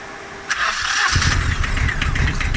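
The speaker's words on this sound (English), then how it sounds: "So we're going to start it up and just make sure that spins as it should." An Arctic Cat 700 diesel quad with a turbo fitted cranks with a sharp click, then its engine catches and settles into a steady, loud, close running rumble.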